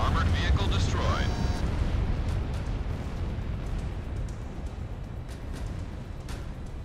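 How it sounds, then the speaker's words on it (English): Rocket fire and explosions in the Ace Combat 6 combat flight game, a dense continuous roar of blasts and rumble that starts loud and slowly eases, with bright electronic tones and a voice cutting in near the start. "Commencing full rocket fire."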